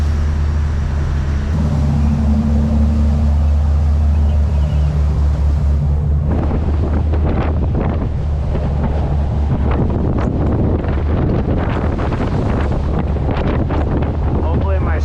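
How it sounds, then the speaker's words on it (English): Choppy waves breaking over the bow of a small floating home boat, with heavy wind buffeting the microphone and steady engine-like drone, growing into irregular splashing surges. "The waves are growing quick. Stuff's going everywhere. Waves breaking over the bow."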